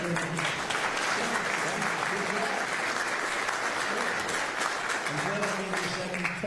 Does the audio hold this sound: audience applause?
yes